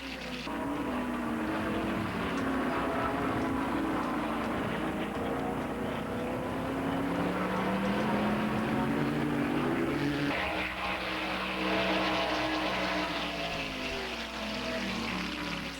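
A Ford Mustang GT racing at Road America in Elkhart Lake, its engine holding a loud, steady, continuous drone with rising and falling pitch sweeps as it passes, with no talking.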